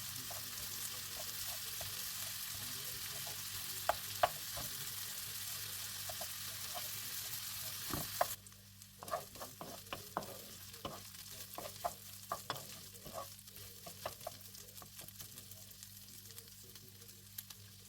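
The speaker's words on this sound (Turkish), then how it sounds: "Ezdikten sonra da böyle arada sırada karıştırın. iyi bir şekilde pişirin." Homemade sucuk frying in a pan, a steady sizzle with intermittent scraping and stirring clicks; the hiss drops noticeably halfway through while the stirring continues close by.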